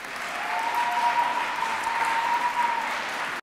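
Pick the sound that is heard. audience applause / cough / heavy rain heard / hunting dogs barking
audience applause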